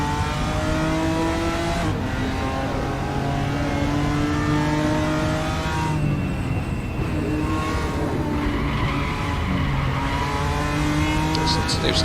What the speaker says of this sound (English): Those tires squealing.